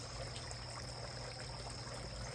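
A garden water fountain trickles steadily and softly outdoors, a continuous low wash of running water with no voices.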